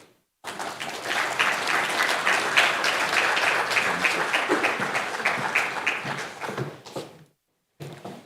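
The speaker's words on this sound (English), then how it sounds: "Please, another round of applause for Mr. Mohammed Fall, UN resident and humanitarian coordinator." A room full of people applauds for a UN resident and humanitarian coordinator at a national launch event, steady dense clapping lasting several seconds before tapering off, then a brief final burst after a short pause.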